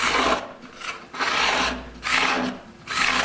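Card scraper drawn across a wooden board in four rasping strokes, each a loud, close, dry scrape separated by brief pauses, with no voices.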